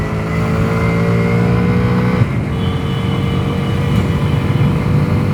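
A Bajaj Freedom 125 CNG motorcycle, base model, accelerating on a test ride, its engine note rising steadily with rising harmonics then settling into a continuous, fairly loud drone with road and wind noise, no talk.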